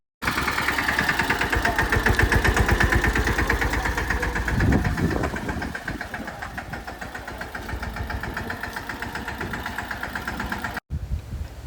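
A farm tractor runs steadily nearby in a vegetable field during an eggplant harvest, its engine chugging with a dense, even rhythm that stays loud for about eleven seconds with no talk over it.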